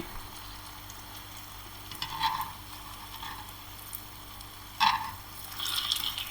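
A soy chunk protein cutlet fries in a pan, giving a steady low sizzle with a few louder crackling spits and stirring scrapes.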